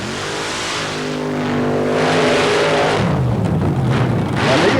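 A nitrous-injected all-aluminum Rodex 530 paddle-tire mud racer roars across a mud track in Florida, its engine loud and steady with rising revs throughout, with no voices over it.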